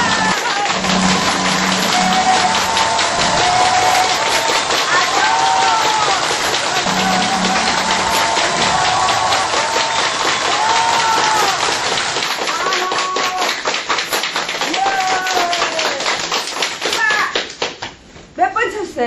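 A group at a Korean laughter and brain-health class claps rapidly for about ten seconds, fast dense clapping mixed with excited voices, cheering and someone talking, ending in a brief pause.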